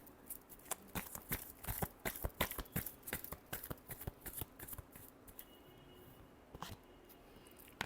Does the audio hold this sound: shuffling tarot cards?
yes